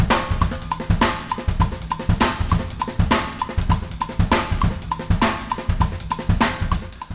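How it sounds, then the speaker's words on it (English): A drum kit plays a half-time shuffle groove in 7/4, with a loud, steady repeating pattern of kick, snare backbeats and busy cymbal or hi-hat strokes. "So there's the basic half-time shuffle in 7."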